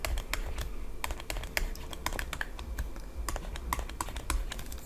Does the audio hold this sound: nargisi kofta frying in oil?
no